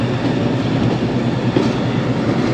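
Ravi Express passenger train on a Pakistani branch line, heard up close as a loud, steady rumble with rhythmic clickety-clack of wheels on rail joints throughout.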